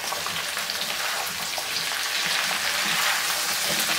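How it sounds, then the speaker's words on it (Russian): Pumpkin stir-fried in a pan for Chinese-style fried pumpkin, giving a steady, close sizzle with light scraping of stirring throughout and no voices. "Теперь перемешиваем все это и прогреваем хорошо тыкву."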